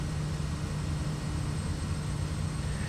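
Kodiak 100 turboprop engine in Microsoft Flight Simulator 2024 drones steadily on approach, a constant loud hum with a low tonal whine and airy hiss, unchanging throughout and alone without talk.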